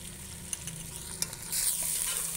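Ginger garlic paste sizzles in a pan for chicken pulao, a soft steady hiss with a few stirring clicks that swells louder near the end.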